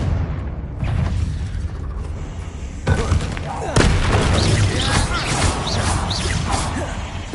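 Fiery Confringo spell blasts in Hogwarts Legacy burst out as loud booms and crashing whooshes, one sharp hit around the middle followed by a stronger one, with crackling debris and game effects around them.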